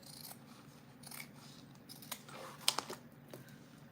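Scissors trim excess interior fabric on a small Araki box bag being sewn, giving a few faint, quiet snips and light fabric rustles at close range, with no speech.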